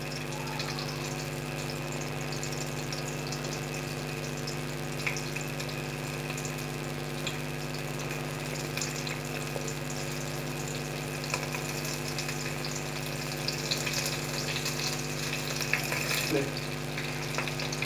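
Okra and green chillies shallow frying in oil in a pan for a chicken and okra dish, giving a steady soft sizzle with occasional faint stirring clinks throughout, no voices.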